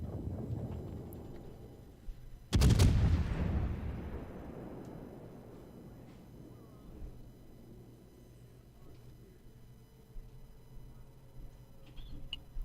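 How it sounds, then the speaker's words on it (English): A warship's main battery salvo fires in a naval battle game: one loud, sharp boom followed by a long rumbling decay that fades over several seconds, with no talk. "Fire on the first salvo"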